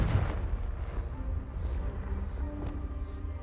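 A Confringo blasting spell from the Hogwarts Legacy video game goes off as a dull boom, followed by a rumbling, fading blast with faint crackles behind it.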